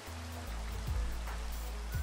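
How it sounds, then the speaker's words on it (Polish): Steady rain falls in the Minecraft video game, a continuous soft hiss filling the background throughout, with a low rumble underneath and no speech. "No i jednak pada ten deszcz."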